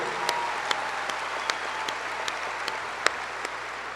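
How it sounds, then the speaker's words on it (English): A crowd at a high school graduation ceremony applauds the color guard, a continuous wash of clapping from a large audience, with a few sharper individual claps standing out at a steady rhythm. "How about one more round of applause for those guys?"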